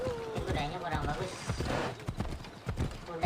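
Horse hooves clip-clopping in Assassin's Creed Odyssey, a steady clatter of steps up close with a brief whinny, under ongoing game sounds and people talking.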